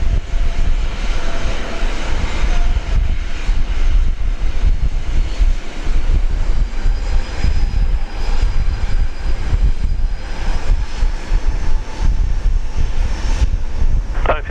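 China Airlines Airbus A380 arriving from Taipei and landing on runway 01 left at Brisbane airport, a steady, loud engine roar with rushing wind noise that holds throughout without pause.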